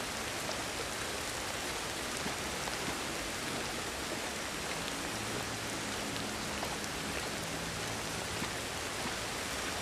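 Steady rain in the video game Ancestors: The Humankind Odyssey hisses evenly throughout, a dense wash of falling drops with no voices and no pauses.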